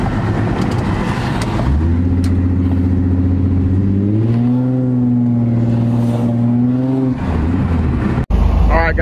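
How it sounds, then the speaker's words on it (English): An Infiniti G35 coupe engine with an air leak revs up loudly in sustained rising and held pulls, then drops back, and a sharp pop lands near the end, close and dominant. "Oh my gosh, she's ripping again, guys. And she's popping on the low"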